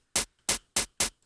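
Four short bursts of bright, hissy noise, a noise sample pitched up very high, evenly spaced, each sharp and clipped like a high-pitched static click, with silence between.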